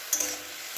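Jute leaves (pat shak) frying with onion in a pan, a soft continuous sizzle with a sharper hiss and a light stir or scrape early on, no voices.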